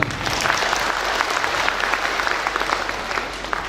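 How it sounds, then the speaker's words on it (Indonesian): Sustained, dense applause from a large audience at an Indonesian college graduation ceremony at STMIK Budi Darma, steady and even throughout with no voices on top. "Tepuk tangan tuh yang ini."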